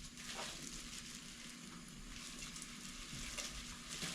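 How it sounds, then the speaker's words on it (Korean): Steady, dense sizzling and crackling of battered food deep frying in hot oil in a large pot, continuous and close, with no talking. "제가 이 큰 그릇에다 튀깁니다"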